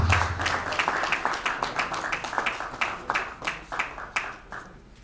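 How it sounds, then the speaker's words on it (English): Audience applause at a Rotary Club evening event for a guest speaker, a moderate round of clapping that settles into a slower rhythmic beat before fading. "A round of applause for Bashir Jekerandu."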